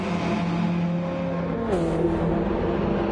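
A car in an electric racing video game league approaches and passes to lap the player, its engine whine steady, then falling in pitch as it goes by, heard over the player's own car drone.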